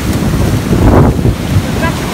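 Ocean waves surge onto a beach, a loud continuous wash with heavy wind buffeting the microphone and one brief swell rising in the middle. No one speaks.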